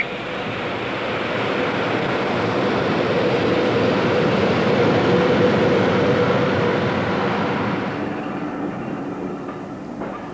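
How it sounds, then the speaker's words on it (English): A train rolls along the harbour side onto the quay at Weymouth in 1978, a steady loud rumble and clatter of wheels that holds for several seconds and then eases off toward the end. "At Weymouth, the train runs along the harbour side and onto the quay where the ship is moored."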